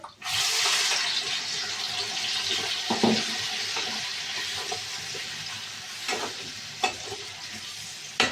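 Spice mix frying in hot oil in a pan, a steady broad sizzle with occasional stirring scrapes and clinks spread across several seconds.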